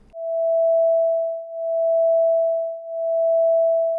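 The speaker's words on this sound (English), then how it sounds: "Here's a pure tone version." A single steady pure sine tone, part of a demonstration of beating between piano tuning harmonics, holds for about four seconds, loud and alone, with a slow swell and dip in level at a regular rate.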